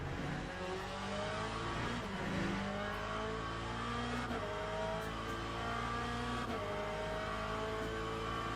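A race car engine in a Le Mans racing video game revs hard and steadily, with stepped pitch drops from harsh downshifts, loud and continuous with no voices over it.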